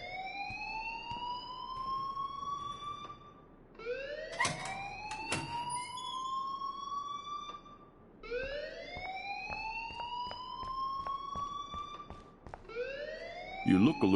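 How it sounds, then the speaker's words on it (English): A wailing alarm in the video game Life Is Strange on PS4 sounds as loud, repeating rising siren sweeps in about three cycles, steady and close throughout. "please turn off that alarm since that's your job"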